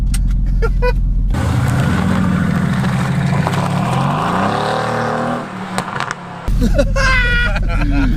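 A sports car engine surges and accelerates loudly, rising in pitch, with a person's voice heard briefly at the start and end.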